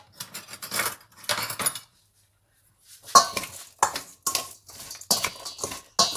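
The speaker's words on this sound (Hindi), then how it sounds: "इसके अंदर मैं बेसन डालूंगी, इसको अच्छी तरह मिक्स करूंगी चम्मच के साथ।" A spoon mixes gram flour (besan) with crushed chilli in a bowl, giving bursts of clinking and scraping against the bowl, separated by a short pause, close and without talk.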